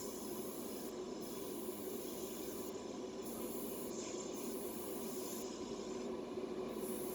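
Aerosol spray paint hissing in a steady stream while a Dinky Mini Clubman toy car gets a light coat of black, fairly quiet and continuous, with slight changes in tone.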